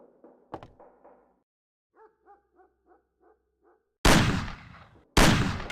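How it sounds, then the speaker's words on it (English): Shooting at cans on a table in the game Mafia: after a sharp crack and a string of small clinks and dings, two loud, booming gunshots ring out about a second apart, each with a long fading tail. "Shoot the cans off of the table."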